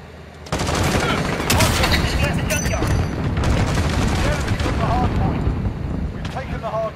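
Heavy gunfire in Call of Duty Modern Warfare during a Hardpoint match, a loud continuous barrage of rapid shots and blasts that fills the whole stretch with no break.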